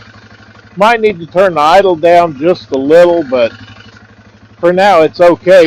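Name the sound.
Polaris Sportsman 500 ATV engine idling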